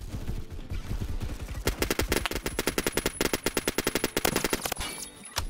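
A gun in the Phantom Forces game fires rapidly in sustained automatic bursts, a close, loud staccato rattle with a few brief pauses and no talking.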